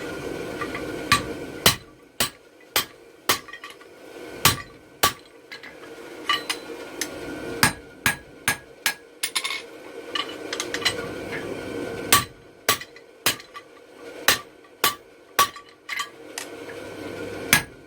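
Steel rings under repeated hammer blows while a bottle opener is forged, sharp metallic strikes landing in uneven bursts with short pauses, about two dozen in all, close and clear.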